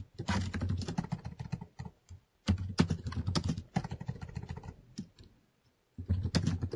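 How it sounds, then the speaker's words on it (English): Clattering computer keyboard typing in quick close bursts of keystrokes, separated by short pauses, with no voices. "If I can type."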